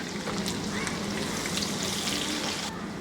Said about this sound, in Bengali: পেঁয়াজগুলা দিয়ে আমি একটু ভেজে নিব